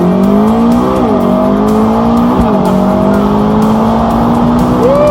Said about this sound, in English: as promised, a ride in the McLaren